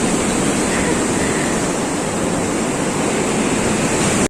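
Ocean waves roll onto Divis bridge beach near Visakhapatnam, a loud continuous roar of surf blended with wind rushing across the microphone.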